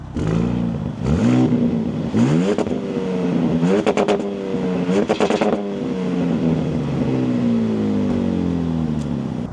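A 2025 Ram RHO pickup truck's engine and exhaust rev in several sharp, loud bursts that rise and fall back to a burbling idle, heard close and without talk.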